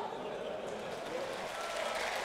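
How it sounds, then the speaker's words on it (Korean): Lawmakers in the National Assembly chamber applaud after a floor speech, a steady, fairly faint wash of many hands clapping with murmuring voices underneath, heard from a distance. "한국당 의원들은 연설을 마친 나 원내대표를 향해 박수를 쏟아냈지만"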